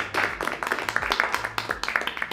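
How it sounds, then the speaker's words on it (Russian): Studio audience bursts into lively clapping and applause at a New Year's talk show taping, dense overlapping hand claps sustained throughout with a faint voice underneath. "Под ваши бурные аплодисменты"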